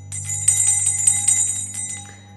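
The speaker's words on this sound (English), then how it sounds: "I'm going to ring this bell" A hand bell rung repeatedly in a quick, ringing series of bright metallic strikes, fairly close and loud, with a steady low hum underneath and no talk.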